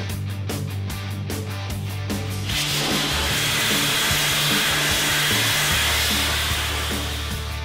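A dustless blaster stripping paint from the outside of a concrete mixer caked with rock-hard mortar, a loud, close, continuous hiss and roar that surges in after a brief rumbling start and holds steady.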